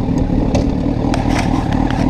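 A Honda CBR 1000 RR sport motorcycle engine runs loud and close, a dense low roar with brief clattering bursts over a couple of seconds.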